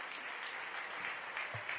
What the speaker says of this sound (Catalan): Aplaudiments per ell.